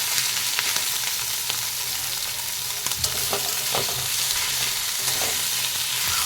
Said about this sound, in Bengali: আদা রসুন বাটা দিয়ে দিয়েছি, ভালো করে ভেজে নেব ওই মাছের মাথার সাথে।